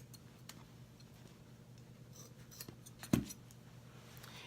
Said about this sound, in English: Cut the sponges into quarters.